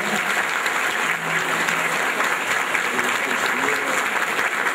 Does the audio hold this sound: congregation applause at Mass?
yes